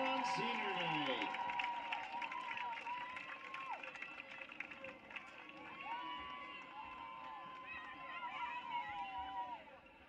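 Large outdoor crowd cheers and applauds for Raiders cheerleaders on high school football Senior Night, a steady broad roar with scattered shouts and whistles from the stands.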